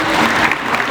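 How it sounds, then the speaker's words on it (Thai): Audience applause at a live acrobatics troupe show, a dense wash of clapping filling the short moment, loud and steady with no voices over it. "ขอเสียงปรบมืออีกครั้งหนึ่งนะครับผม"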